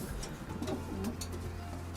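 Soft, low pigeon cooing repeats near a steady background hum, a few gentle throaty calls blending into the ambient noise.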